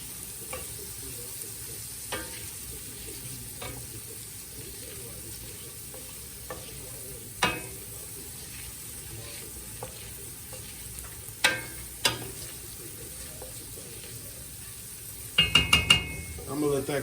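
Onions cook in a pot with Tony's seasoning, a soft continuous sizzle under occasional sharp spoon taps and scrapes against the pot, ending in a quick burst of clinks.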